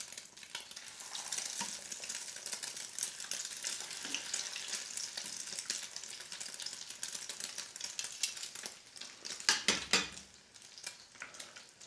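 Shrimp frying in hot oil in a pan, a steady dense crackling sizzle close by that continues throughout, with a few sharper spitting pops and faint clatter toward the end.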